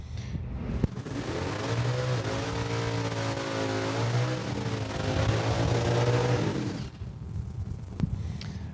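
Street legal drag race cars fire off the line at SIR, a deep, loud engine roar with harmonic revving building and holding for about six seconds before cutting off, leaving a lower rumble behind.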